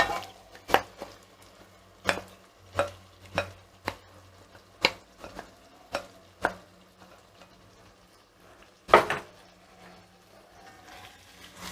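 Paneer marinated in spices being stirred with tomatoes in a pan for a dum biryani: a run of sharp spoon-against-pan clanks at irregular intervals, then a louder scraping burst, with faint kitchen background and no talk.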